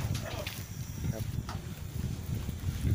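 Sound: strong wind blowing outdoors

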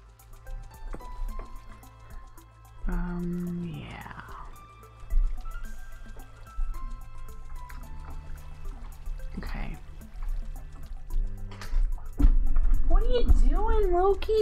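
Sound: flowing water in Minecraft, a video game

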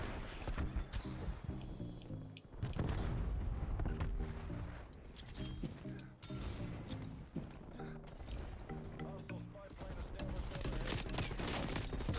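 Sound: gunfire in the video game Call of Duty Cold War

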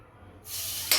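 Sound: grated carrot frying in hot ghee for halwa

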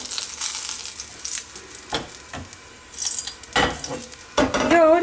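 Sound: duck breast frying in fat in a pan

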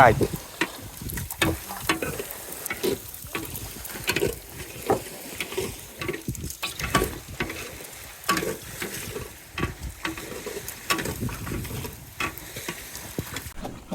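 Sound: spices being ground into paste for fish curry

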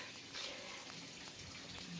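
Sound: spray bottle misting plants

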